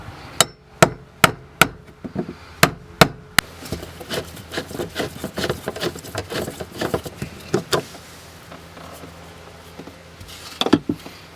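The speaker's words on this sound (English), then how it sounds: "this is just where you want the big flathead screwdriver and a hammer just to knock it undone like this" A hammer strikes a big flathead screwdriver to knock loose the plastic fuel pump lock ring on a BMW E36, giving a series of sharp, evenly spaced metallic taps, then quicker, rougher knocks and scraping as the ring turns.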